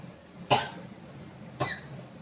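Two short, sharp allergy coughs from an adult, close to the mic, about a second apart, each a single burst fading quickly into a quiet room.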